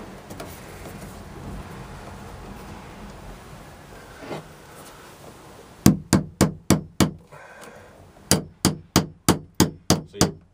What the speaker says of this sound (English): Be careful when you're nailing this that you don't smash the wires while you're putting it together.